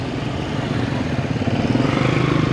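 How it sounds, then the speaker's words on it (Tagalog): A new motorcycle just out of the dealership, its engine running with a low, steady, pulsing rumble that grows slightly louder over a couple of seconds, close by and without talk. "Bagong labas ng motor nakita po natin na kalalabas sa kasa."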